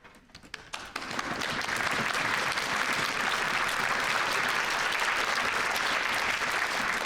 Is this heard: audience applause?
yes